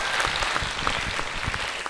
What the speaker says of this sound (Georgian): და ტაშ დაუკრათ ამ შვენიერ ისტორიას.